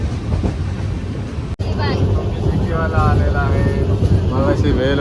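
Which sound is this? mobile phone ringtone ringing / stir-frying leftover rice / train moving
train moving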